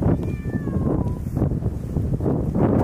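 Several cats meow in an abandoned Japanese city, with one clear drawn-out meow rising over a steady rush of wind and outdoor noise.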